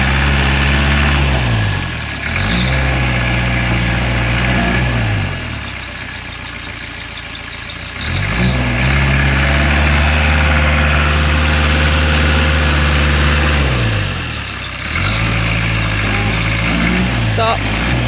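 A Land Rover engine revs in repeated loud surges and drops back toward idle as a wheel sits stuck in mud, the heavy low drone close by and constant, with occasional voices underneath.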